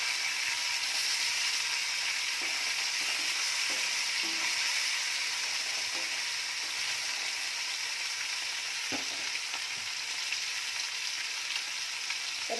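Fish sizzles steadily in a hot pan, a dense continuous frying hiss with a few soft knocks and scrapes as the fish is turned over partway through.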